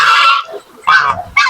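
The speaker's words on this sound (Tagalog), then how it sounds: "May apat na tayong bagong napisa na gansa mga idol." Loud, close honking calls from a flock of geese with newly hatched goslings on a farm, three bursts in quick succession with short gaps between.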